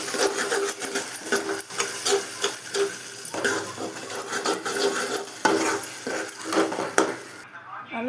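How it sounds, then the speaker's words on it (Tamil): Onions sautéing in a pan while making paruppu urundai kuzhambu, a lentil-ball curry, with repeated scraping and stirring strokes of a spoon over a soft sizzle, close and fairly loud, in an even rhythm. "வெங்காயம் நல்லா வதங்கிடுச்சு."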